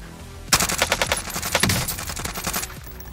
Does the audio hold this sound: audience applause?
no